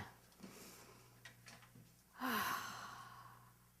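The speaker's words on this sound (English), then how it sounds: "let's take a nice deep breath in" A single deep breath drawn in close to the microphone, rising sharply out of a quiet room hum and trailing off slowly.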